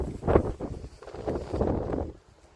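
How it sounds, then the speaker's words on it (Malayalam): Strong wind buffets the microphone at the seashore at Vizhinjam, where people are fishing: a loud, continuous low rumble with gusty swells, and no voices. "നല്ല കാറ്റാണ് കേട്ടോ"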